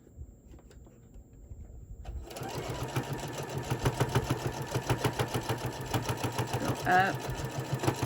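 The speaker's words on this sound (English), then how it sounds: "I'm going to kind of stitch over and stitch back a little bit" A sewing machine stitches fabric for a pleated face mask: after a quiet start with brief speech, the motor kicks in with a rapid, steady needle clatter up close, continuing to the end with a short pitch shift partway.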